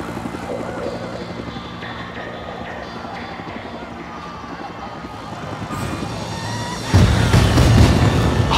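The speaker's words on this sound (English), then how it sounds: "Plane." An aircraft in the video game Spore whirs with a steady engine drone that builds, then surges into a louder, rumbling liftoff roar near the end.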